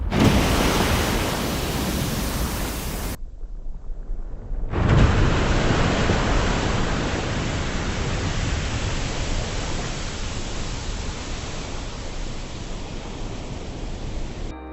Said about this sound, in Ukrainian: Це гейзер Стракур. Він вивергається кожні 5-10 хвилин.